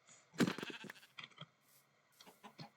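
Sheep bleating in the Minecraft video game, a couple of short wavering calls with a loud one at the start and fainter ones following, alone with no talk.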